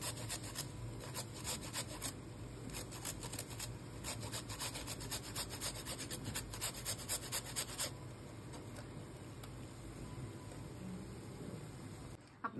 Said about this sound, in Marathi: त्यानंतर जो आपण गाजर घेतला होता तो सुद्धा आपण त्यावरती किसून घेऊ शकता।